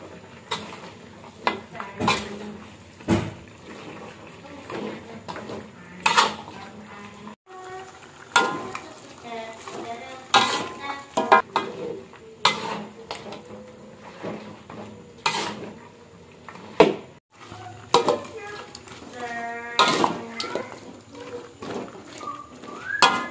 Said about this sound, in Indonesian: Lalu kita aduk-aduk sampai dia merata ke dalam dagingnya.